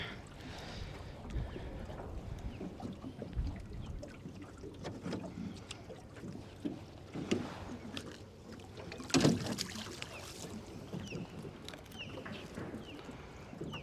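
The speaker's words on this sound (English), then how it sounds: "Oh God, this wind." Wind blows across a lake at sunrise during a fishing outing, gusting against the microphone in rough, uneven bursts that swell and fade, with faint water and boat noises underneath.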